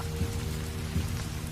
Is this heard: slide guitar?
no